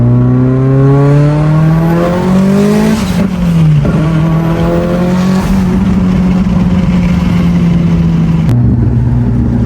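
A built Mitsubishi Evo 8 turbo car accelerates hard on a street drive, its engine note climbing loud and close through several gear changes, with tire and road noise beneath.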